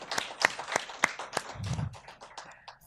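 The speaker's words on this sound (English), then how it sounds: "So let's give one more round of applause for her achievements" An audience gives a round of applause at a Sunday evening talk in Indonesia, the clapping faint and uneven, with distinct individual claps rather than a dense roar, and no speech over it.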